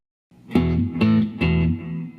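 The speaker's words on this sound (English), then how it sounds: "plug into the amp, play a couple power chords. Add a little reverb. Little delay." An electric guitar plugged into an amp plays three power chords with reverb and delay, each strum struck cleanly and left ringing with a bright, sustained, echoing tail.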